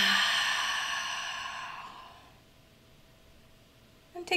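One long, deep, breathy exhale during a yoga breathing exercise, loud at first and fading away over about two seconds into quiet.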